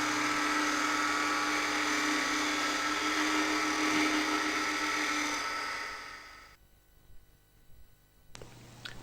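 A wood lathe hums loudly and steadily while a Robert Sorby multi-tip tool shear-scrapes the spinning wood as a finishing cut, then the sound drops away, leaving quieter handling noises near the end.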